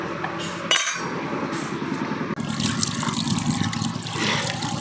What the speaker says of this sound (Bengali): ঝোলটা আমি একবারই দিয়ে দেব